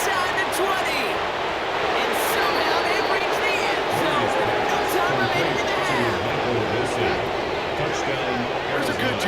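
A stadium crowd at a Cardinals vs Rams football game roars in a dense, sustained wash of cheering and noise, loud and continuous, with scattered sharp bursts.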